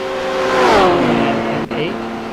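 A Porsche 911 RSR race car roars past at the Le Mans 24 Hours, its loud engine note climbing and then dropping in pitch as it sweeps by, with a commentator's voice running underneath.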